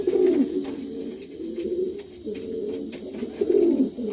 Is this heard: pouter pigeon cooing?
yes